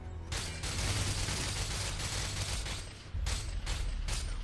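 Rapid automatic gunfire from the PC shooter Call of Duty: Modern Warfare 2, a dense continuous burst of shots with brief gaps, loud and close in game audio with no talking.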